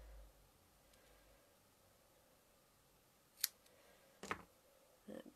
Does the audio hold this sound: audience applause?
no